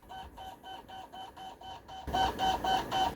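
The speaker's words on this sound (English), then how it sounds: "For some reason, it made my disk drive into a printer." Game disc drive in a console chattering like a printer while installing Spider-Man 2, a steady series of repeated mechanical buzzing pulses that grows louder halfway through, with no voices.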